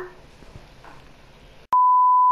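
GTA 5 Online on PS4 with an in-game phone call coming in, a single loud steady electronic ring tone that starts abruptly after quiet game sounds and keeps going.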